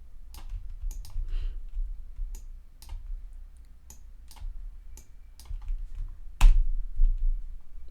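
Keys clicking on a computer keyboard while code is typed, a sparse run of separate, fairly close taps with uneven pauses and one louder clack near the end, with no talking.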